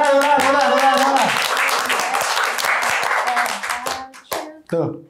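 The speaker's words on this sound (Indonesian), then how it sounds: "Tepuk tangan." Studio audience clapping on a hosted talk show: dense, loud applause running under voices and laughter, thinning out near the end as someone starts talking.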